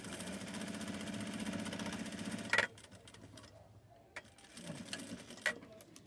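Sewing machine backstitching fabric: a rapid, even mechanical whir of stitching for about two and a half seconds stops abruptly, followed by quiet handling clicks and a short burst of stitching near the end.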